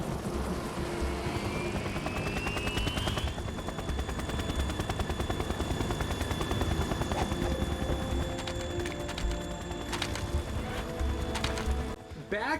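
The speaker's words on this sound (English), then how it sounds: "Russian choppers." Russian helicopters in Metal Gear Solid 2 drone with a steady rotor thrum amid game sound effects and rapid gunfire-like rattles, holding at a constant loud level until a brief break near the end.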